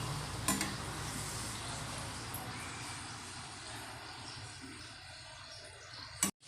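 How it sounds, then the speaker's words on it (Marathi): Karanji pastries deep frying in oil, giving a steady, soft, even sizzle and bubble close by that runs almost the whole time, ending in a brief clatter. "तुम्ही बघू शकता अशा प्रकारे आपलं करंजा तळे जे आपण कापून घेतले"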